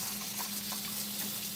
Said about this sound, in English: I'm going to throw some water in my pan here.